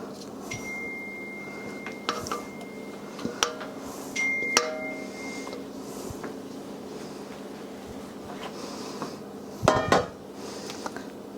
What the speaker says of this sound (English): I'm just going to stir that until it has all been pushed through that sieve